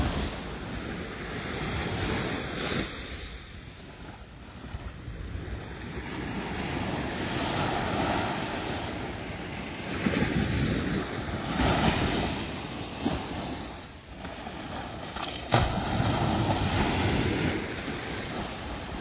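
Ocean waves at Crystal Cove Beach: loud surf rolling in and breaking in repeated surges, each crash swelling and then fading into a foamy hiss, with wind buffeting the microphone.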